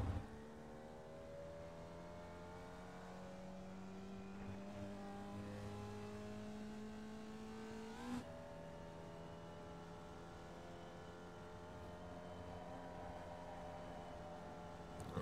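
A Formula Vee race car engine drones steadily at Navarra Speed Circuit in a racing video game, holding a sustained pitch with gear shifts and a brief bump midway, heard alone and fairly quiet.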